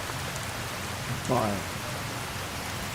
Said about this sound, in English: And I love that it's raining.